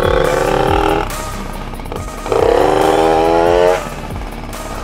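A tuned 65cc Tomos moped with a loud, raspy two-stroke buzz, heard close while riding, climbing in pitch through two strong acceleration runs with a dip between them.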